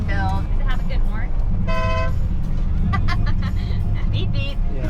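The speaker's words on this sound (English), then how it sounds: "Does it have a good horn?" Custom 1955 Ford F100 pickup with a Coyote engine swap sounds its horn several times, short beeps and one longer blast, close and loud over a low engine idle, with people talking nearby.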